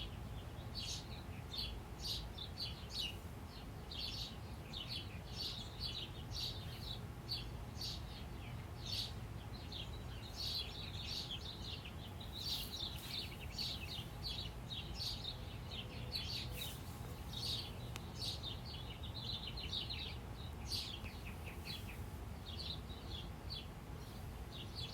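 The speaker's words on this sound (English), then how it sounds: "Can you hear the birds?" Birds sing outside with quick, high chirps repeating steadily for the whole stretch, soft and somewhat distant over a faint background hum.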